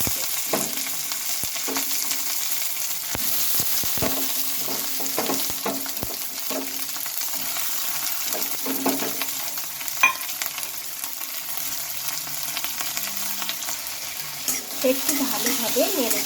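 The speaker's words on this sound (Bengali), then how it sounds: "এখন দিয়ে নেব পেঁয়াজ কাঁচা লঙ্কা আর রসুন এগুলো দিয়ে" Onion, green chilli and garlic frying in mustard oil with black cumin seeds, a loud constant sizzle close by with frequent spatula scrapes and taps, a little busier toward the end.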